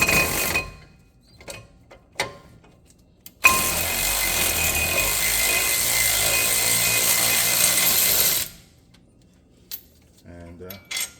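A ratchet wrench working 18 mm bolts off the brakes of a Ford Fusion, heard as a long, loud burst of rapid mechanical clicking, with sparse knocks and tool handling before and after.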